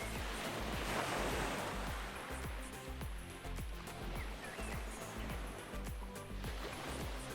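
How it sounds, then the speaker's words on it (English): Steady, rushing surf from sea waves washing in close by at the waterfront, a continuous broad hiss with softer rhythmic swells and no voices. "take in the sounds of the sea"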